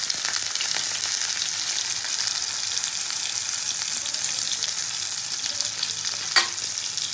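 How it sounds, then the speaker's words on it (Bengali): Eggplant pieces frying in oil with salt and turmeric added, a constant close hiss of sizzling with scattered crackles and one sharp utensil clink near the end, nobody speaking. "ভালো করে বেগুনটাকে ভেজে নেব।"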